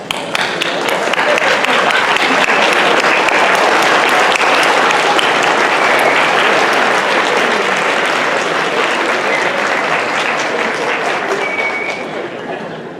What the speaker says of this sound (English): ask the graduates to stand up and offer a round of applause to their family and friends who supported them in this journey